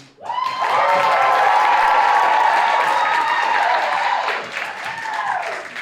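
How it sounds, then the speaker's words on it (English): Loud audience applause and cheering at an evening cultural show, greeting two co-presidents; steady dense clapping with crowd whoops fills nearly the whole stretch, easing slightly near the end. "I'll give a round of applause for Imani and Amaga, co-presidents."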